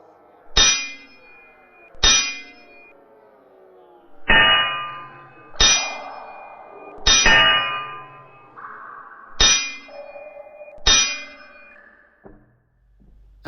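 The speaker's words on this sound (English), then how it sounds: "The sound of sword and club smashing against shields rang out through the subterranean corridors as the two groups fought." Sharp metallic clangs ring out, seven or so distinct strikes spaced about a second apart, each with a bright ringing decay, as sword and club smash against shields in an underground corridor fight.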